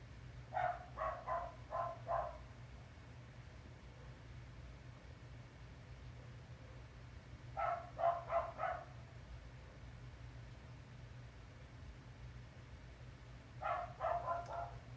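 Neighbor's dogs bark excitedly outdoors, three separate bursts of several quick yips and barks each, distant and fairly faint over a low steady hum.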